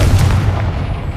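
A Confringo blasting spell from the game Hogwarts Legacy detonates in a single loud, deep boom that rumbles close and heavy before tailing off over about a second.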